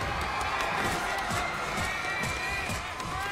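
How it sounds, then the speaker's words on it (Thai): Crowd of fans cheering at a Free Fire mobile esports finals, a steady loud roar of voices filling the whole stretch with no breaks. "กองเชียร์เสียงมาหน่อยเร็ว"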